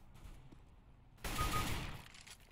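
Gunfire in the video game CS:GO lands a headshot as a short, sharp burst of shots, brief and moderately loud against quiet game ambience.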